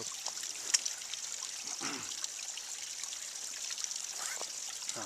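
A river stream trickles and babbles steadily outdoors, with a continuous bright hiss of running water and occasional small splashes close by.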